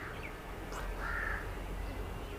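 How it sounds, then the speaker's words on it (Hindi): A crow caws a few times at a distance, harsh calls standing out faintly over steady background noise. "यहाँ पर एक कौवा बोल रहा है"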